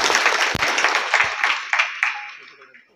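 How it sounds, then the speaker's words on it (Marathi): A crowd claps to welcome kirtan performer Mauli Maharaj Kadam at the Sanaswadi Bhairavnath dindi silver jubilee; the applause is dense and close, with sharp individual claps, and it gradually fades over about three seconds. "त्यांचं आपण सर्वांनी टाळ्या वाजवून स्वागत करायचंय"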